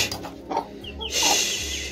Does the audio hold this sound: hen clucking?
yes